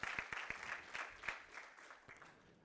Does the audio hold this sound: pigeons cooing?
no